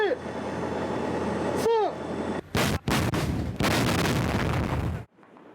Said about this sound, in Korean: 곧바로 K9A1 자주포에서 굉음과 함께 포탄이 하늘로 솟구칩니다